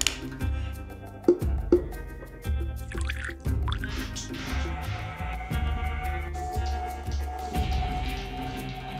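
Water drips and trickles steadily from an Agaro electric spin mop, close and fairly loud, with a low continuous hum underneath and occasional sharper splashes across the nine seconds, with no talking.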